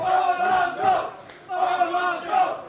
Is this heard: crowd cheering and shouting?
yes